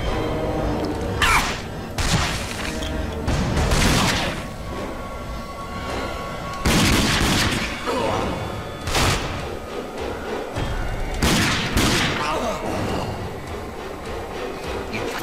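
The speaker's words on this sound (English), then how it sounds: "Ah, grenades." Grenades explode in the video game RAGE, several loud booming blasts at irregular intervals, each with a sharp burst and rumbling tail.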